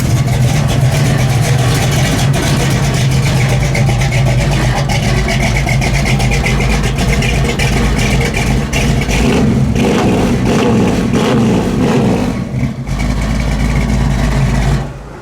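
A 1976 Pontiac Trans Am engine with dual exhaust rumbles loudly nearby, a deep throbbing idle with occasional revs, fading at the end.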